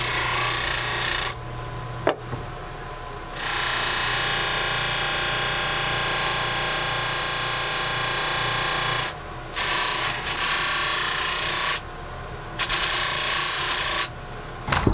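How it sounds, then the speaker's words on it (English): A bench buffer polishes brass bullet shell casings held on a ground-down wooden dowel, giving a steady close whirring rub that drops out briefly in short gaps, with one sharp tap near the start. "I'm going to use the buffer to polish these nice and shiny"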